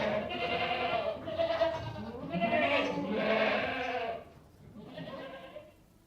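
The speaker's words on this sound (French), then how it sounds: "Une chèvre." A goat bleats in a run of wavering, nasal cries with short breaks between them. A final shorter bleat comes after a pause, close and fairly loud, with no talk over it.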